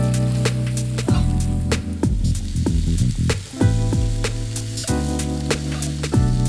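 Pork intestines stir-fried in a wok with shredded pickled cabbage, soybean paste, soy sauce and rice wine, sizzling loudly and steadily with repeated scraping stirs and clatters close by, with no talking.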